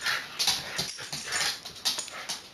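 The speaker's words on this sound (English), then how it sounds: "My dogs are being really loud because they're playing right now." Several dogs playing indoors, with close, high-pitched whimpers and yips coming in quick, uneven bursts.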